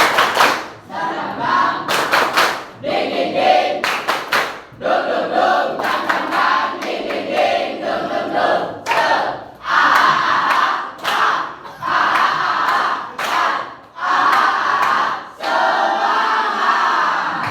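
A classroom group stands and performs a rhythmic spirit clap, bursts of loud synchronized claps in patterned sequences separated by brief pauses, with some crowd voices mixed in.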